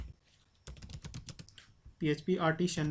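Close, rapid keystrokes on a computer keyboard as a command is typed in a quick run of clicks, followed by someone speaking.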